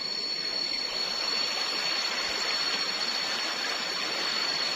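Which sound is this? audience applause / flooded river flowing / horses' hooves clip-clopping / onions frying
flooded river flowing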